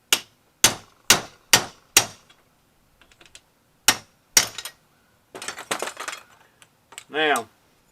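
Hammer striking a punch on scrap metal: five sharp metallic strikes in quick succession, then a pause, two more blows, some lighter clinks and a brief voice near the end.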